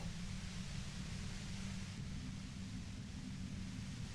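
A steady, even hiss of white noise in a video game set in Revachol, constant and fairly loud from start to finish, with a low rumbling band underneath and no voices.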